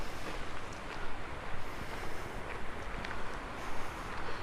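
Water washes and laps steadily at the edge of a marshy, wet area, close to the microphone, with a constant hiss of wind over it and no talking.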